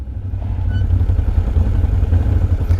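A 2019 Can-Am Outlander 650 XMR ATV engine runs roughly, misfiring and stumbling with an uneven low chugging, loud and close, no talk.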